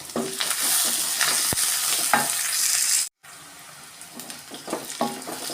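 Curry leaves are stirred into onion and green chilli frying in a pan, producing a continuous close sizzle with scraping stir sounds, a brief cut in the middle, then more bubbling and stirring.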